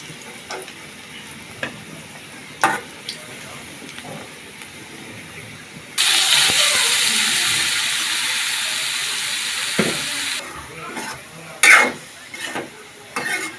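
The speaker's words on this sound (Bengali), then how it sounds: "বাজা হয়ে গেছে সব সবজিগুলো আমরা এখন মিক্স করে ফেলবো" Fried mixed vegetables with soya chunks being stirred in a pan, scraping clatters scattered throughout with a loud sustained sizzle swelling in the middle, then fading back to intermittent stirring knocks.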